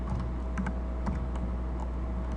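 Steady typing on a computer keyboard, close and moderately quiet, with a continuous run of soft key clicks over a faint background hum.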